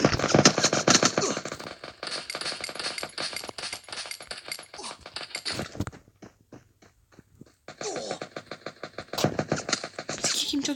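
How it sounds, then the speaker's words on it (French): Rapid, dense bursts of gunfire from the mobile shooter game Free Fire crackle almost nonstop, drop to scattered single shots for a short lull, then return in loud volleys. "C'est qui me tire dessus?"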